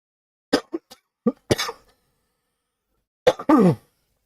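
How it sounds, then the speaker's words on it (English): A person coughs in several short, dry bursts, then a pause, then two more harsh coughs, close and clear. "Did not realize I had this much of a cough."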